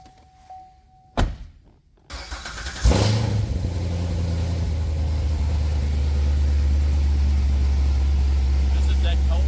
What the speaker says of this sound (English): This is that cold startup